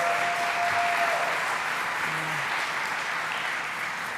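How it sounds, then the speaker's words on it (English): Sustained applause from an audience at a New York governor's public announcement, dense and steady throughout, filling the room at full strength before easing slightly toward the end. "Let's give him a round of applause."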